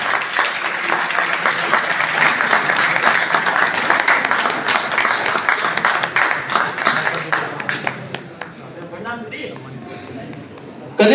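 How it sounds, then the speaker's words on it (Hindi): An audience claps at a community celebration honoring a dance performance, a dense sustained round of applause that thins out into scattered claps near the end. "तालियां"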